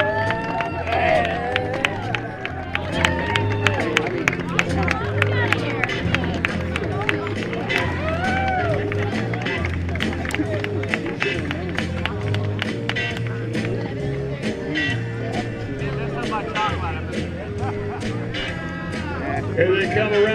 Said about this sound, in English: How about a big hand for our Little Leaguers?